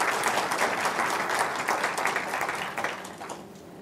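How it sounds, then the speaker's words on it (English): An audience applauds someone speaker named Jan at an International Women's Day celebration, with steady, dense clapping from a crowd that holds strong before easing off slightly toward the end. "So please, a round of applause for Jan."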